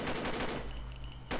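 Rapid machine gun fire aimed at a Hornet in the Combat Arms video game: a loud rattling burst of rounds, a short pause filled with a lingering ring, then another burst resuming.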